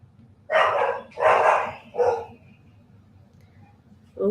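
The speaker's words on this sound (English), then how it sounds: "Oh, the doggies be a barking." Three loud dog barks in quick succession, close by, then a pause with faint background noise before another bark begins at the end.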